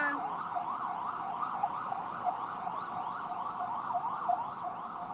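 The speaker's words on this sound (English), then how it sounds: "More ambulance." An ambulance siren wails in a steady rising-and-falling pattern, moderately loud and continuous as it passes through a city street, with no voices over it.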